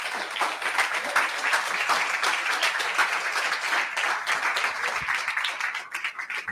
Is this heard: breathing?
no